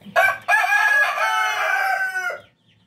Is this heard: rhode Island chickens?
yes